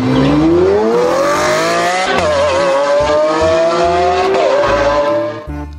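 A toy race car gives a close, loud revving whine that climbs in pitch and holds for several seconds before cutting off abruptly.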